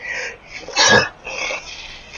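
A single close, loud human sneeze bursting out in the middle, with breathy sounds before and after it.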